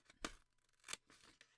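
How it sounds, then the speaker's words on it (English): Scissors snip through scrap paper in a few quick, close cuts, two sharp crisp snips followed by lighter trailing clips, quiet and alone. "so I would cut this out"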